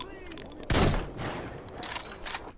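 A single loud, sharp sniper rifle shot rings out in the video game Metro Exodus, then fades into quieter in-game ambience.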